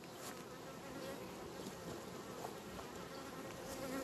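Honeybees buzz continuously at an open hive colony during an inspection, forming a dense, steady hum close by with no voices over it.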